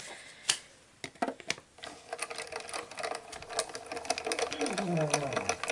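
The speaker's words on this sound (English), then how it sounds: "So I'm just going to die cut it real quick." An electric die cutting machine runs card paper through its rollers, a close mechanical whirring and clicking with a rising motor whine, preceded by a few sharp taps and clicks.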